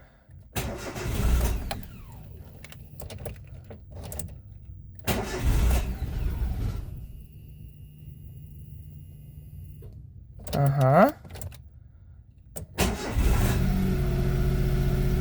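A Daewoo Matiz engine, just repaired, cranks several times in separate bursts before catching and settling into a steady close idle; a voice speaks briefly between attempts.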